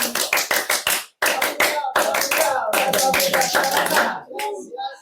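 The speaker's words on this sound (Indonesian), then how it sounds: "tepuk pramuka." Pramuka scout-style rhythmic clapping comes as several rapid, sharp claps in a patterned rhythm. Voices talk and laugh over it midway, and the clapping fades out toward the end.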